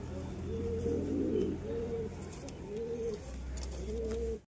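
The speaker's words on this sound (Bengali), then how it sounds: "তো ভিউয়ার্স, তোমাদের প্রথমে কবুতরটা দেখাই কি কবুতর এনেছি।" A black-green jag pigeon, brought home from Beldanga market, coos in a series of soft, rounded, repeated calls close by with a low hum in the background.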